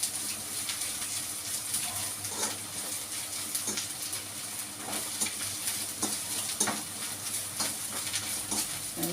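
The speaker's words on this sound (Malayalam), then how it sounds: "എണ്ണ ഒഴിച്ച് കടുക് വറുത്ത് അതിനകത്തേക്ക് ഇഞ്ചി ഇട്ട് കൊടുക്കുക." Grated ginger sizzles in hot oil with popping mustard seeds, a steady crackling fry close by, broken by light scraping strokes of stirring.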